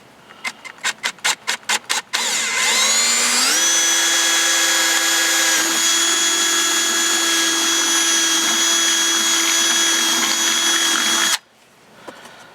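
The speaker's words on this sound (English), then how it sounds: "Grab yourself a 5/8 drill bit and drill her out." A power drill with a 5/8-inch bit runs steadily at high speed for about nine seconds after several short trigger bursts, loud and close, then cuts off, drilling a hole in a 2017-18 Chevy Cruze.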